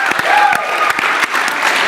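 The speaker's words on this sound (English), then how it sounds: "Give him a round of applause" A steady wash of audience applause at a youth gathering, dense and fairly loud, with many hands clapping together for the whole short stretch and a faint murmur of the crowd underneath.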